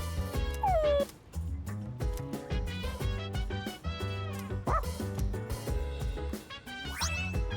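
Koromaru, the dog in a Persona video game, yips and barks several times over steady game music, short excited bursts with a whimpering rise near the end.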